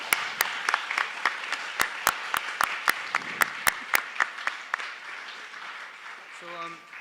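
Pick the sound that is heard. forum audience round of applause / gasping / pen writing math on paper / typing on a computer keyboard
forum audience round of applause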